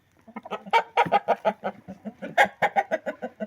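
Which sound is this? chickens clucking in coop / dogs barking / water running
chickens clucking in coop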